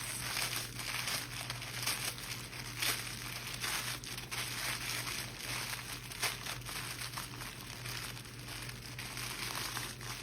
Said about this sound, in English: I'm just pinching them with my fingers in my bag, right on top of my casserole